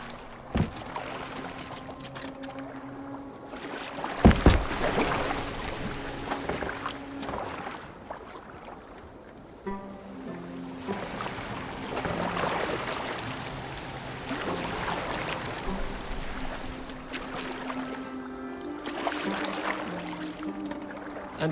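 Boat gliding across water in Assassin's Creed Valhalla, with steady sloshing and splashing of the hull and oars through the water, a faint tonal game score underneath and a sharp knock near the start.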